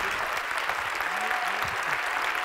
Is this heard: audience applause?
yes